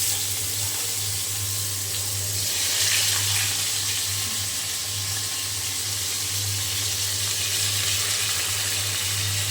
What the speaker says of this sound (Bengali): পাঙ্গাস মাছ ভাজতে ভয় লাগে,